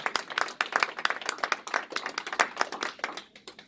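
A crowd at a Missouri House campaign event applauds, with dense, fairly close hand claps rattling continuously at moderate volume and no talking over them.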